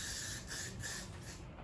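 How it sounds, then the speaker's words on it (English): Several short bursts of Got to Be Glued hair spray hiss up close, the pulses overlapping in a quick rhythm before fading. "I'm gonna go in with some Got to Be Glued spray"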